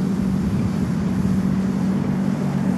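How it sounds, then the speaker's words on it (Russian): A JJRC JJPRO X3 HAX quadcopter drone climbs on its return-home flight on a windy day, giving a steady, loud motor and propeller drone with wind buffeting the microphone and no talk. "Тумблер на себя, квадрик пошел вверх,"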